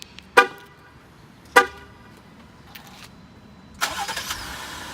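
Two short horn chirps sound a second apart, then a 2019 Jeep Grand Cherokee's 3.6-liter Pentastar V6 cranks by remote start and catches, settling into a low idle nearby.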